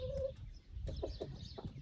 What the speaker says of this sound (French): voilà ce magnifique coq qui est mon dernier né de l'année dernière